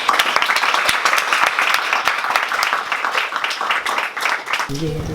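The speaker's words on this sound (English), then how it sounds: "Let's give a big round of applause for JC Doss" An audience claps for speaker JC Das at a talk, dense applause that fades near the end, where a voice begins speaking.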